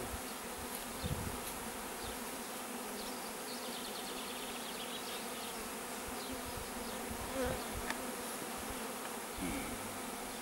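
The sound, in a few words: honeybee swarm being transferred to a hive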